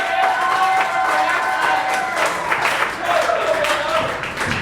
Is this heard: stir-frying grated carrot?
no